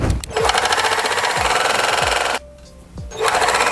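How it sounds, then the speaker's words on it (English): A serger whirs at high speed with a dense, rapid stitching chatter as it overlocks knit fabric edges, stops briefly, then starts up again. It is close and loud, with no voices. "So I'm going to be taking this to the serger"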